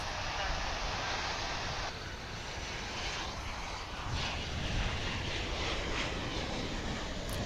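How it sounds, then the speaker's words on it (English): An Airbus A321 airliner takes off at DFW International Airport, a loud continuous engine roar that swells and holds steady over several seconds, heard at a distance across the airfield. "we've got this A321 taking off to parts unknown"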